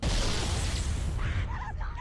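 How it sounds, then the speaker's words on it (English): An explosion in the Halo video game hits as a heavy, rumbling burst that rolls and fades over about two seconds, with faint voice-like sounds toward the end. "Pretty explosion."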